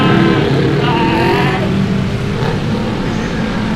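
A motorbike taxi accelerates through Bangkok traffic, giving a loud, close, continuous engine drone with rushing wind and surrounding traffic noise.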